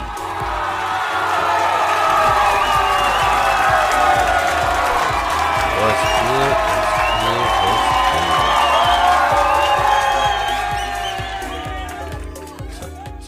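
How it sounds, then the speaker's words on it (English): A large crowd cheers and whoops loudly and steadily, with scattered clapping and shouts, swelling early and fading near the end, while someone speaks briefly over it. "It's a gang of cheering we got going on there."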